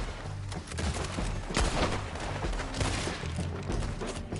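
Rapid gunfire in Red Dead Redemption 2, a dense fusillade of overlapping shots with heavy low thumps, steady and loud throughout with no talk.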